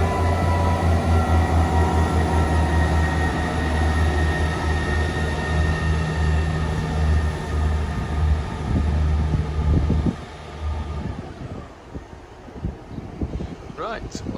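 A train rumbles past nearby, a loud steady roar that fades after about ten seconds into quieter rattling and ambient noise, near a level crossing between Pontefract Monkhill and Knottingley.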